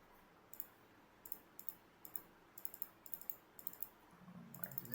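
A computer mouse clicking at a desk while working in a spreadsheet, a quiet series of light clicks, some single and some in quick pairs, with faint background noise and no speech.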